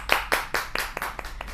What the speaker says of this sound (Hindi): जोरदार तालियों के साथ स्वागत करते हैं हम स्टूडियो में